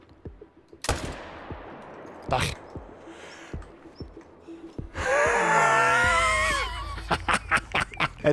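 Rifle shots fired at a tiger during a hunt: sharp, loud cracks at about one and two and a half seconds, then a burst of pained moaning or roaring, followed by several quick close impulsive knocks.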